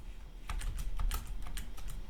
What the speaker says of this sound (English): You can use the keyboard arrow keys to navigate the table.